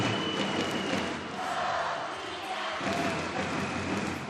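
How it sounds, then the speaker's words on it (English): Audience at the junior hoop final of the 2023 Rhythmic Gymnastics World Championships in Cluj-Napoca, heard as a steady, dense wash of crowd cheering and applause that fills the whole stretch at a constant level, with no clear talk on top. "And what a splendid reaction as well from the crowd."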